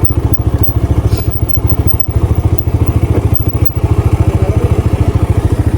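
Motorcycle engine labouring up a steep off-road track toward Sittong, a steady rapid thumping throb close and loud throughout, with faint clatter over it.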